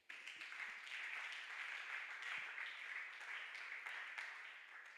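A church congregation applauding for Jesus: steady, dense clapping from a crowd that holds evenly for several seconds.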